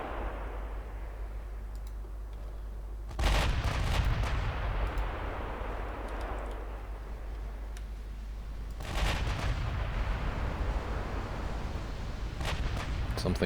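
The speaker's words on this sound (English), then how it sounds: "Something took a very big hit from a 16-inch gun." Heavy 16-inch naval guns from a battleship engagement in Ultimate Admiral Dreadnoughts boom in two loud, sustained barrages, each a dense roar of firing and shell impacts with crackling bursts, easing back to a rumbling background between salvos.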